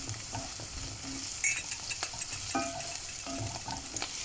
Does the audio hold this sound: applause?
no